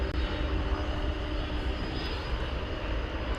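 A generic airliner on final approach to land at DFW Airport drones steadily as its engines pass, a continuous moderately distant roar with no talk.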